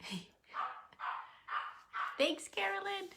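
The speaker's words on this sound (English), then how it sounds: "I'm not sure if you can hear my dog barking" An excited dog barks in a series of short, fairly close woofs at a steady rhythm, while a person speaks briefly near the end.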